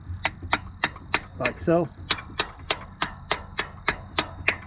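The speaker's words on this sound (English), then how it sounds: "Get something solid and just hammer it in there" A nipple fitting is hammered into the PI intake of a 1998 Mustang GT with steady, evenly spaced metallic taps, about three per second. The taps are close and crisp, and a brief spoken phrase cuts in midway.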